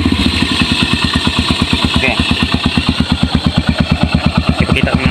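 Close by, a Yamaha XTZ 125 motorcycle idles steadily after its CDI conversion. The single-cylinder exhaust gives off an even, rapid chugging pulse with light mechanical clatter, and no voices are heard.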